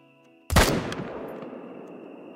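A single loud rifle shot at a wild boar during a night thermal-scope hog hunt in the game Call of the Wild, a sharp crack followed by a long fading echo across open ground, with faint ambient hum before it.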